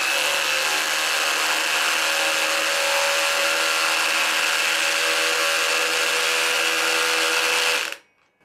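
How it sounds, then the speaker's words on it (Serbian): Parkside PSBSAP 20-Li cordless drill driving with its clutch engaged, a loud steady whirring motor with ratcheting clutch chatter for about eight seconds before cutting off abruptly. "sada ću nastaviti sa uključenim kvačilom da vidim dokle može pogura to"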